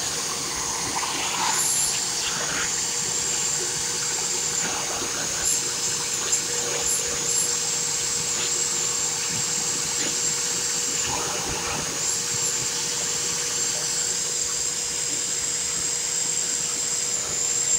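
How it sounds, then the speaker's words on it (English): A Bissell vacuum cleaner runs with its hose suction on, giving a steady, even whine and rushing airflow throughout, with faint clatter and small bumps now and then. "Watch the hose suction now."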